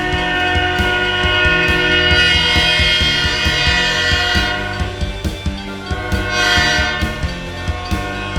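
A train rolls past close by with a loud, sustained horn blaring over the rumble and clatter of the cars.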